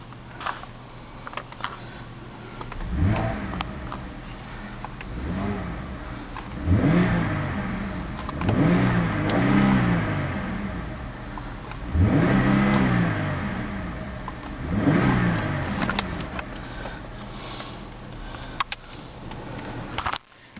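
2008 Cadillac CTS engine revved several times, rising and falling surges over a steady idle, heard close and fairly loud with no talking.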